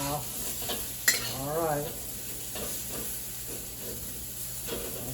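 Cauliflower and pork sizzling and being stirred in a hot wok, a continuous frying hiss with scraping stirs and a brief metallic clink, while someone speaks briefly over it.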